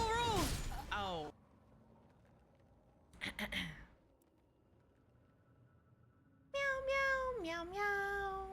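A person imitating a cat, giving loud, close, drawn-out meows in separate bursts with silent gaps between them, during a Marvel Rivals gaming stream.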